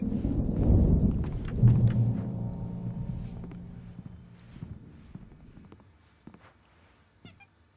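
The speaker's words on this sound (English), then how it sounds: "There's a storm coming. Oh, what a storm." Thunder from a storm in the Alan Wake Remastered video game rolls in a heavy, loud rumble that slowly fades, with faint taps and clicks trailing after it.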